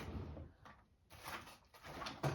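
A drawer slides open and shut in a quilting room near a sewing machine, a few short soft scrapes and knocks spread across a quiet indoor moment, fairly faint.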